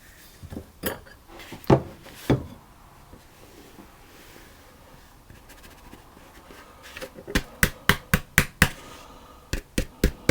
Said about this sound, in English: So then it's a question of mixing the dry ingredients into the wet.